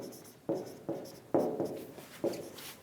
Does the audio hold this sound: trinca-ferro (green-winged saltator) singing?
no